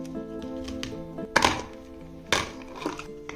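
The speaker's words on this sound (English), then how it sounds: "I take a clean plastic container and place all these open battery shells inside." Opened battery shells clatter into a plastic container, with a few sharp thunks and rattles spaced apart over a quiet background of faint hum.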